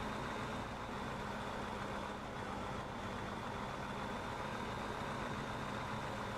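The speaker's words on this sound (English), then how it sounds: "So yeah, we got the old Mack truck working good." A Mack truck engine idles in Farming Simulator 15, a steady low diesel rumble with broadband hiss that holds constant and loud throughout, with no speech.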